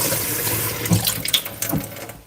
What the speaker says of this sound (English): I'm gonna put a little bit more water.